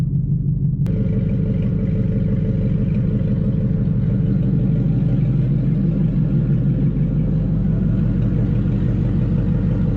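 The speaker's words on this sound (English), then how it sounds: "I feel bad idling in the drive-thru." A 900-horsepower Mustang idles steadily in a drive-thru with a deep, constant rumble close by, after a brief click near the start.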